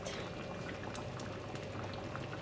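Crab curry boils in a pot, a steady fizzing, crackling bubble that stays faint and even throughout, with no voices over it.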